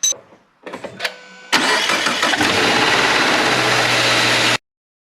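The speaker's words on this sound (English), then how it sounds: "Start the engine up and make sure it is tracked properly." A 2013 Subaru Forester engine cranks with a few short bursts, then catches and settles into a loud, steady idle that runs for several seconds before cutting off, after idler pulley and serpentine belt replacement.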